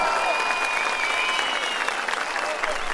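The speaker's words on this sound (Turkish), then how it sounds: "Ona bir alkış." A crowd at Muharrem İnce's outdoor presidential campaign rally in Muğla, Turkey, in June 2018 breaks into loud, sustained clapping that fills the whole moment with a dense wash of hands.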